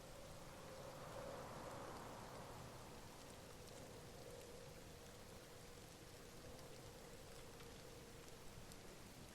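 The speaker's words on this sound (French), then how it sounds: "Sous la pluie." Steady rain falls in the fishing game Dovetail Games Euro Fishing, a soft, even hiss with a faint tonal hum running beneath it, with no talking.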